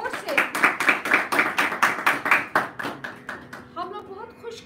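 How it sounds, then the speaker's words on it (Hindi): An audience applauds a performer at a musical tribute: a burst of loud rhythmic clapping that thins out and fades after about three seconds, followed by faint voices. "उनके लिए बहुत जोरदार तालियां जोर से"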